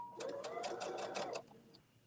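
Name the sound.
sewing machine stitching two fabric pieces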